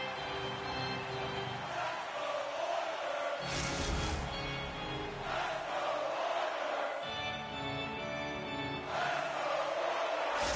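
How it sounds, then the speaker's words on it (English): A video game crowd roars steadily in a hockey arena in NHL 25, with swelling waves of cheering and chanting throughout and a distant, continuous murmur under the surges. "In the final moments of this period, you can feel the energy in this crowd."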